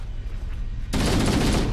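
Heavy rapid gunfire in the video game Halo: Combat Evolved bursts in after a quiet stretch, a dense continuous barrage of shots that holds loud until the end.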